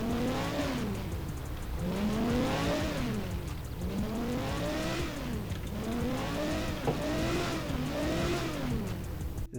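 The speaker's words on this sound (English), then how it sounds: "Let's hear some revs." Lamborghini Huracan engine in a modded GTA 5 game revs repeatedly, its pitch climbing and falling in steady waves that blend into a continuous, loud, close engine roar with no talk.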